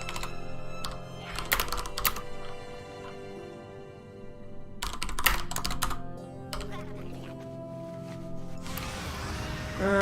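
Intermittent clusters of computer keyboard keystrokes during a World of Warcraft session, short bursts separated by pauses, set against steady game music and effects.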